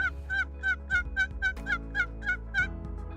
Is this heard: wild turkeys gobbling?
yes